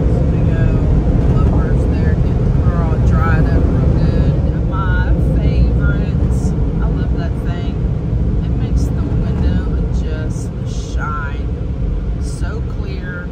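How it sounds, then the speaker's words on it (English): Car wash blowers drying a car in Texas, a loud steady roaring rush of air that holds throughout and eases slightly toward the end, with talking faintly over it. "So we go blowers there, get the car all dried up real good."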